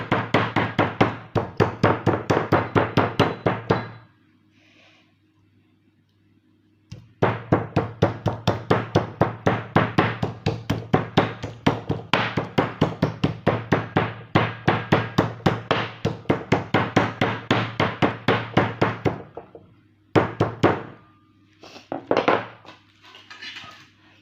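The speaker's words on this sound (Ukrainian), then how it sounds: "М'ясо я відіб'ю. Ось такий молоточок." A meat mallet pounds meat for shawarma in rapid, steady thuds on a board, two long runs of blows separated by a brief pause, then a few final strikes.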